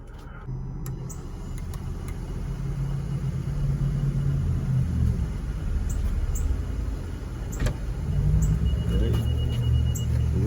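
A Honda Odyssey minivan engine runs after being switched on, a steady low idle rumble holding through the whole stretch with a few faint clicks and small knocks over it.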